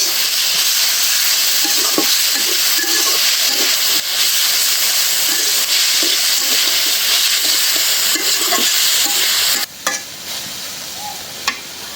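Food fries in hot oil in a pan with a loud, continuous hiss and sizzle and scattered stirring scrapes, then the sizzle drops off sharply near the end, with no one speaking.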